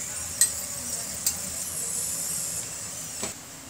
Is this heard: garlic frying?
yes